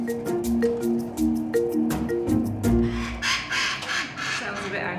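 An African grey parrot in a travel box calls out angrily, with a run of sharp, repeated squawks and clicks followed by rougher cries, heard under a narrator's voice.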